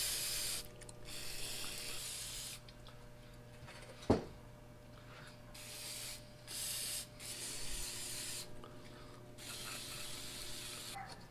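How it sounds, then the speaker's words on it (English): CRC brake cleaner sprayed onto plate compactor engine parts as a quiet, continuous hiss broken into several bursts, with one sharp click partway through and no talking. "Little CRC brake clean."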